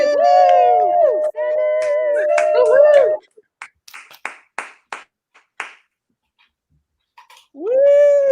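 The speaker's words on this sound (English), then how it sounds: "Give a huge round of applause and an extra AF welcome to Sandy" Audience at an Extra AF comedy show cheering and clapping as a comedian named Sandy Brown is welcomed to the stage, with loud whoops and sustained voices in the first three seconds, then scattered claps and a final whoop.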